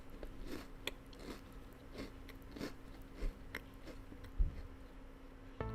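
Someone loudly crunching and chewing cookies, a string of sharp, evenly spaced crunches over a faint steady hum, close and fairly quiet, with no talk.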